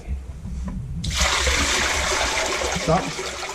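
Water rushes into a toilet bowl being filled during installation, a sudden loud gush that keeps pouring and splashing steadily after a quieter, murmuring start.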